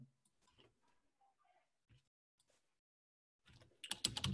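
Typing on a computer keyboard: a few faint, scattered key clicks in a quiet room, then a quick, louder run of keystrokes at the end.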